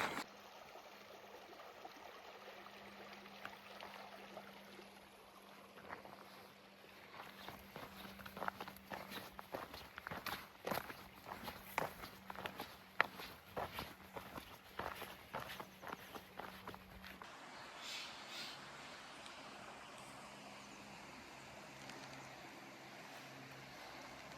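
Footsteps of a solo backpacker hiking down the China Hole trail in Henry Coe toward a creek, steady crunching steps up close over soft outdoor ambience with a little wind, with no talking.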